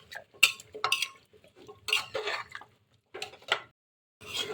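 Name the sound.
stirring taro pieces with meat in a pot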